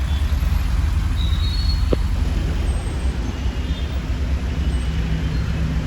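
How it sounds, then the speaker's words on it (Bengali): Dense night-time traffic jam in Dhaka near the Dhaka Metropolitan Police headquarters, a steady low rumble of idling cars, buses and trucks with a brief air-brake hiss, continuous and close, no talk. "প্রচণ্ড জ্যাম প্রচণ্ড জ্যাম"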